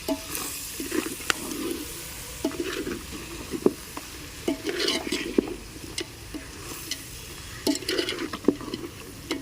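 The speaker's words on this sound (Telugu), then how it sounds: "అడగంటకుండా చూసుకొని మళ్ళీ కలుపుకుంటూ ఉండాలి" Spoon stirring natukodi country chicken curry in a pan on the stove, soft scraping strokes and clinks at irregular intervals over a gentle simmering sizzle, close and fairly quiet, no talking.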